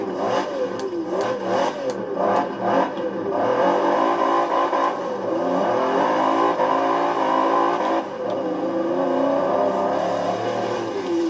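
A 6-liter V8 car engine in Forza Horizon 4 revs up and holds a loud, rough drone, with a few shifts and a brief dip before climbing again, heard alone and close.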